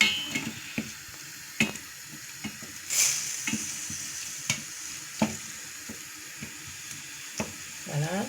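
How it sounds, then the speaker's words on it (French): Lardons frying in a pan for a potato gratin, a steady close sizzle with scattered clicks and stirring scrapes throughout, one sharper burst near the middle. "On va s'occuper des ladons, ici qui est en train de... Prends un peu de couleur."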